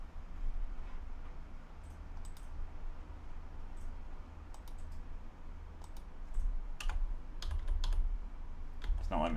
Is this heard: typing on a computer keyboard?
yes